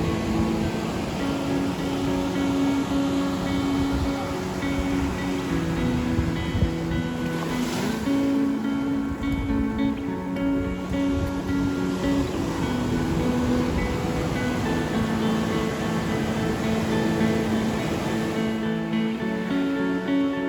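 Ocean waves wash steadily onto a beach along the Big Sur coast, a continuous loud surf roar with rolling swells and some wind buffeting the microphone throughout, no voices.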